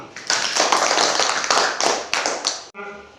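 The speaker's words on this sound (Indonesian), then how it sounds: "Sekali lagi kita tepuk tangan." A classroom of schoolchildren claps together in a dense, lively burst lasting nearly three seconds, with a few voices mixed in before it breaks off abruptly and a brief spoken phrase follows.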